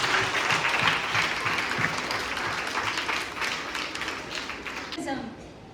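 A school audience at a general knowledge quiz competition bursts into applause, dense clapping that is loudest at first and then gradually fades, ending with a voice speaking.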